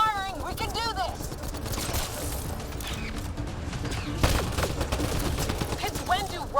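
Bursts of gunfire and rapid shots clatter through a Mass Effect Andromeda firefight, loud and dense with sharp cracks and mechanical clanks, mixed with game voices and a few bird-like electronic chirps.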